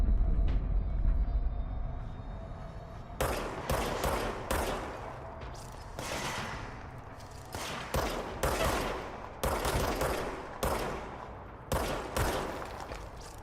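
Video game gunfire in Control, bursts of rapid automatic shots in repeated volleys separated by brief pauses, loud and close, over a low rumbling background.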